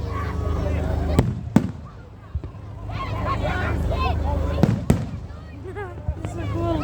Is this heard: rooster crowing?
no